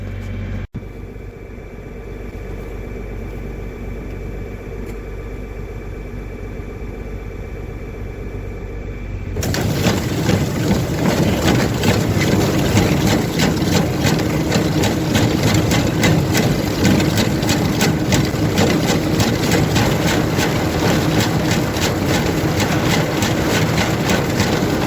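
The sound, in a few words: old reverse manure spreader engine starting and idling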